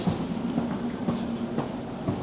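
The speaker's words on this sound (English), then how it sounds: "This Elizabeth Line train leaves in like 40 seconds." Steady rumble of a moving Elizabeth Line train in London with rhythmic clickety-clack of wheels over rail joints, heard from inside the carriage, no voices.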